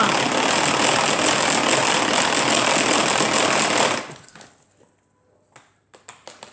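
An electric mixer whisks egg whites for waffle batter with a loud, steady whirring drone for about four seconds, then stops, leaving a few faint clicks and knocks.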